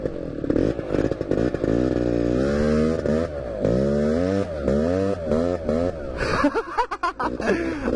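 A new quad bike engine runs through its break-in, revving up and down in repeated rising and falling pulls, loud and close, with a person briefly exclaiming near the end.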